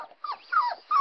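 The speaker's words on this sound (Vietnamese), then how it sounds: "Hình như là con chó của tôi nó thích tham quan nhà." A dog whimpers in short, high, wavering whines, three or four thin cries separated by brief pauses, close and fairly quiet with no talk over them.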